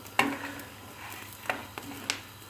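Wheat kernels roasting in a pan are stirred quickly, giving several sharp scraping clicks and rattles spaced over a faint sizzling background.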